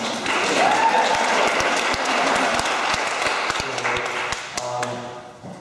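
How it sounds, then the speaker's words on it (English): Student open mic night audience applauding the MC, dense clapping that holds steady and then thins out toward the end, with a few sharp individual claps standing out. "you guys to all give a round of applause to our great MC tonight."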